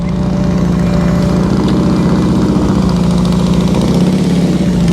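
A motorcycle engine runs at low revs during slow-speed riding practice, a steady, close, continuous rumble with a slight throttle flutter and no pauses throughout.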